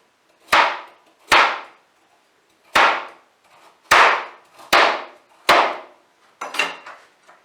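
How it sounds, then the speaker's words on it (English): A knife slicing carrots for maple-glazed autumn vegetables, heard as seven sharp, loud chops on a board, each decaying quickly, spaced irregularly with brief quiet gaps and no talking. "With the carrots, I'm going to do slices."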